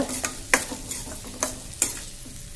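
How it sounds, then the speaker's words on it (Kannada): Onions fry in a pan for dal khichdi under a steady low sizzle, with a few sharp scrapes and taps of a spoon against the pan spaced through the moment, close by and without speech. "ಈರುಳ್ಳಿ ಹಾಕ್ತೇನೆ, ಸ್ವಲ್ಪ ಎಲ್ಲ ಹುರ್ಕೋಬೇಕು."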